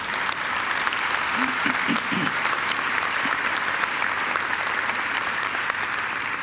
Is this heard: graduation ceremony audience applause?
yes